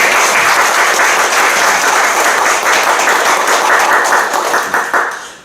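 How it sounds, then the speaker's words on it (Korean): A church congregation celebrating its fifth anniversary claps in sustained, dense applause, loud and steady throughout before tapering slightly at the end. "우리 영광의 박수 우리 먼저 올려드립니다"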